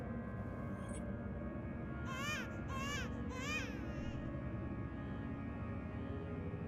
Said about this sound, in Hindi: आवाज आ रही है बच्चे की।